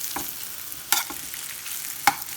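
Bacon frying in a pan for crockpot red beans gives a faint, soft sizzle with a few sharp crackles and pops, the brief scrapes of a spoon stirring, and no voices.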